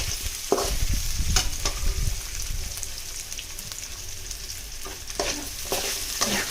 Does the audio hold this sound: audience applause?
no